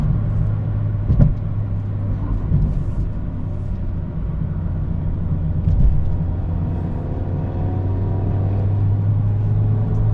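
A Mazda ND2 Miata roadster's engine hums low and steady as the car drives on, a continuous droning rumble heard from inside the cabin with no talking.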